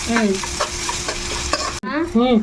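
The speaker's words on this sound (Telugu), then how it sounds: "ఇప్పుడు ఉల్లిపాయలు వేగిన తర్వాత అల్లం పేస్ట్ కూడా వేసేసావు మంచిగా వేగాలి ఇవి కూడా" Onions and ginger paste sizzle steadily in a hot pan, with brief stirring scrapes and a short pause near the end before the frying resumes.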